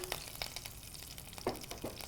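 Curry leaves frying in oil for an Andhra-style mushroom sesame fry, a soft, fairly faint sizzle with a few sharper crackles and pops scattered through.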